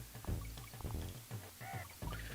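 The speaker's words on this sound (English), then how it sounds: "That's what birds sound like." Synthetic bird calls from a game, short honking and quacking cries repeating over background music, fairly quiet.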